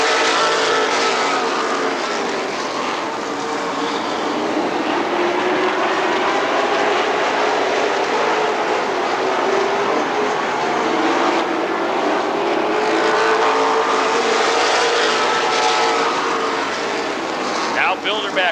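Race cars roar together at Rockford Speedway as the field takes the green flag, a dense, loud engine drone with shifting pitch sustained throughout, while an announcer talks over it.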